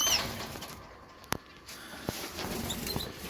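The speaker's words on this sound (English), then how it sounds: "These are the 4 canaries I'll be breeding with this year." Canaries in a cage fluttering and flapping their wings, soft rustling bursts with a few sharp taps against the bars over a constant faint background hum.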